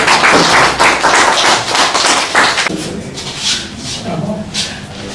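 A crowd at an event where attendees are named in turn breaks into close, loud clapping for over two seconds. The applause then fades behind talking voices.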